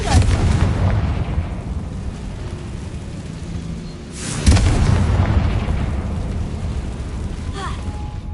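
In the Hogwarts Legacy video game, a Confringo fire spell goes off with a heavy booming blast midway through, set over a continuous low rumbling game background.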